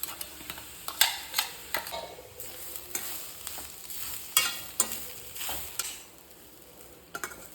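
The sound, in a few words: spice powder stirred and fried in jackfruit palya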